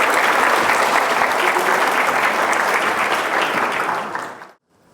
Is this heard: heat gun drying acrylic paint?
no